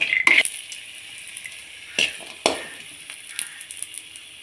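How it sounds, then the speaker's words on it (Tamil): A whole garlic bulb, still in its skin, roasting in a little oil: a soft sizzle broken by a few sharp scraping and stirring clicks, fairly close. "இதுக்கு லைட்டாக எண்ணெய் ஊற்றி வறுத்துக்கலாம் தோலோடையே இருக்கட்டும்"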